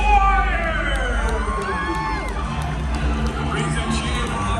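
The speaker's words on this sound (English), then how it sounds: "Raise a mighty cheer, my friends, for all of your hard-working squires!" A crowd cheers and whoops at a medieval tournament dinner show, forming a loud, steady wash of many voices with scattered higher shouts throughout.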